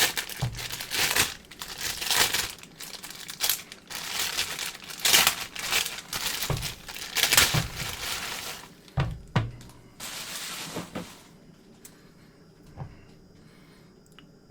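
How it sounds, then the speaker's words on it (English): Dry-aged NY strip steak is pulled from a stiff UMAi bag after 39 days, giving a run of close crinkling and tearing plastic noises in irregular bursts that fade to a few quiet rustles. "Let's go ahead and pull it out of the bag"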